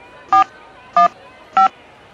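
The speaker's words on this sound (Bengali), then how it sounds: "দেখি মেম সাহেবকে একটা ফোন করি" A telephone number being dialed on a keypad: three short, evenly spaced touch-tone beeps, clear and close, with faint background hiss between them.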